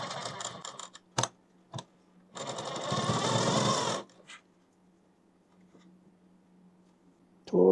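A sewing machine stitching a kurti panel runs in short bursts, one longer run of about two seconds between brief starts and stops, close and fairly loud, with quiet gaps between.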